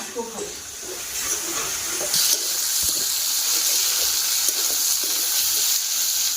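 Potatoes fry in a hot pan at home with a steady, loud hiss and crackle, preceded by a few clinks, with faint background activity throughout.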